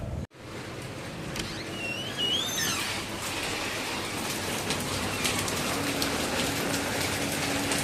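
Rain falls steadily outdoors in Vadodara on the grounds of Laxmi Vilas Palace, making a constant hiss. A bird calls briefly near the start.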